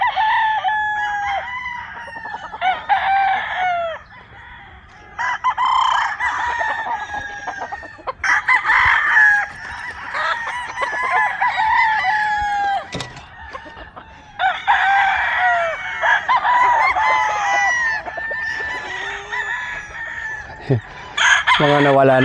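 Local stag roosters in molt, having lost their tail feathers, crow repeatedly and cluck in a farmyard, several calls overlapping at moderate distance, with brief talk audible underneath.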